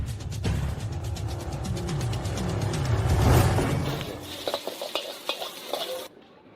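Fried rice is stirred and tossed in a hot pan, a loud continuous scraping and sizzling that swells, then gives way to a few sharp clinks of utensil on metal before cutting off.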